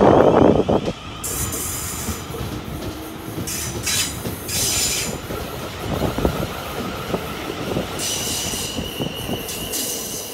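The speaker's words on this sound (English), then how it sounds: "Seems the London Waterloo services are seems to be 12 carriages long." A 12-carriage London Waterloo passenger train passes through Fratton station, wheels squealing loudly and rails clattering steadily throughout, close by with no talk.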